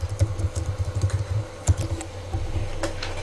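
Rapid keystrokes on a computer keyboard, a quick irregular run of close clicking taps with a brief pause midway, over a low steady background hum.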